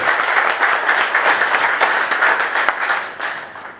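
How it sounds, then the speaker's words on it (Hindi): An audience at a talk on yoga as alternative medicine applauds a speaker, a dense burst of many hands clapping that holds steady and then thins toward the end. "प्लीज़ इनके लिए तालियों के ज़ोर से बताएं कि आप कितनी खुश हो"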